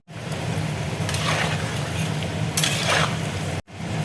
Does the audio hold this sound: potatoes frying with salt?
yes